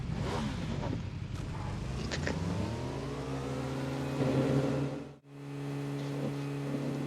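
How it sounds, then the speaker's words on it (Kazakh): A motorcycle engine in PUBG Mobile revs up and climbs in pitch with a rising whine, holds at speed, then cuts out abruptly before resuming at a steady hum. "Мен мотоциклмен бара беремін."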